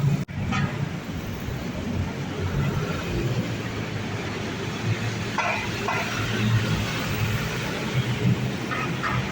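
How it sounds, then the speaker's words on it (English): Street traffic in Kuala Lumpur, Malaysia, with a continuous rumble of engines and road noise close by, a few faint horn-like bursts midway and a clunk at the start, without talk. "check out the traffic here in Malaysia"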